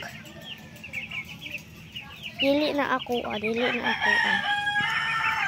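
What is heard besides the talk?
chickens clucking and a rooster crowing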